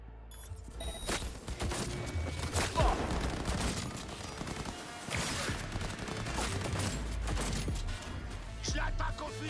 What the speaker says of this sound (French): Je l'attaque au fusil à pompe.